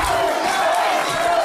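A wrestling event crowd at a showcase show cheers and roars in a dense, continuous wash of voices, loud and sustained from start to end.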